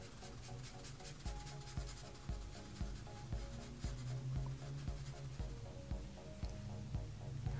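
Pencil shading a drawing on paper: continuous close scratchy rubbing in quick back-and-forth strokes with a steady, regular rhythm, no talking.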